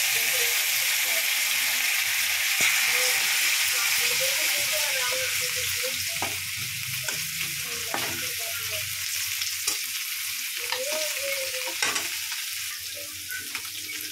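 Dried chili and garlic frying in a little oil in a pan, a loud continuous sizzle and hiss with occasional stirring scrapes, a voice briefly audible underneath.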